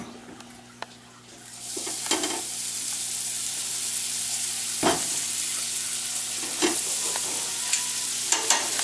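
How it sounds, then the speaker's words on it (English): Clams with parsley and butter hit a hot grill searing plate, sizzle rising to a steady loud hiss with occasional scraping and tapping sounds, close and without talk. "now we're going to put these on the searing plate"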